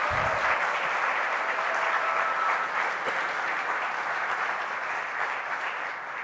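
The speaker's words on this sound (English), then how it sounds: "Please join me again in another round of applause for their courage." Steady audience applause at an international integrity award ceremony, a continuous wash of clapping that holds evenly for several seconds and eases slightly at the end.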